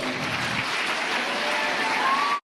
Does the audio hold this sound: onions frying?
no